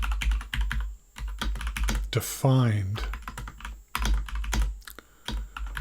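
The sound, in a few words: typing on computer keyboard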